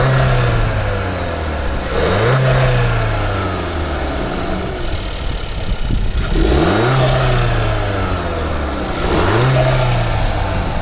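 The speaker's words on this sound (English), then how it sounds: "The turbo actually fluttered from a stock filter" A SEAT Leon 1.4 TSI with a stock air filter runs loud and close, its engine swelling through three revs that rise and fall back to idle, with faint turbo flutter as each rev drops.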